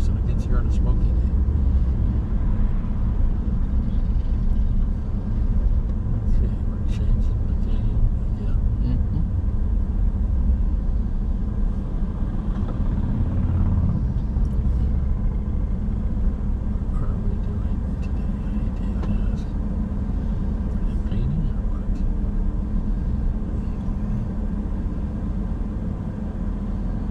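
A city bus travels a bypass road in Minot, North Dakota, its engine and road noise forming a steady, loud rumble that continues for the whole stretch with no breaks.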